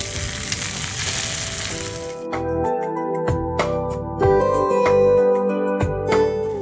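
Tomato pieces dropped into a pan of fried ginger-garlic paste sizzle loudly and steadily, a broad frying hiss that shifts as the pieces land, with scattered crackles and pops and no talk.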